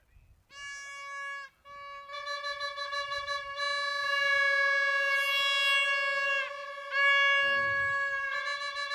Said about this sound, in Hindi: भोपू की आवाज आप सुन सकते हैं